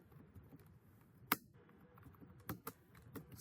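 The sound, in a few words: typing code on a computer keyboard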